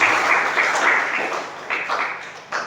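Congregation applauding in church during a Good Friday sermon, a dense, loud burst of many hands clapping that swells and fades in waves.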